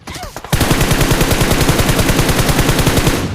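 A long automatic gunfire spray in PUBG Mobile played on a Huawei MatePad 11 rattles out as a loud, close, rapid even burst lasting about three seconds after a brief muffled start.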